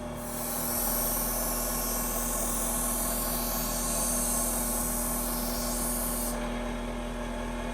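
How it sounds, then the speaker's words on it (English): A bench grinder shapes the reed of an antique jaw harp into a chisel grind, giving a steady high-pitched hiss and whine over a constant motor hum, close and continuous, with the hiss cutting out near the end. "I'm just gonna grind it like a chisel grind"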